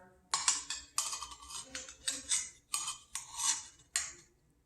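Measuring teaspoons of baking powder being scooped and tapped into a bowl for classic pancakes, a series of about seven bright metallic clinks in uneven bursts, close and fairly clear with no speech.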